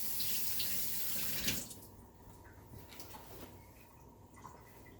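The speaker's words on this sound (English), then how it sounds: "as I wash my hands" Running tap water splashes into a kitchen sink during hand washing, loud and steady for the first second and a half, then dropping to a quieter trickle and patter under a low room hum.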